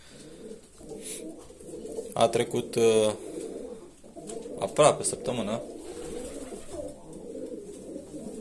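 Pigeons in a loft coo steadily in soft, low rolling calls, with a few louder bursts, while someone speaks over them.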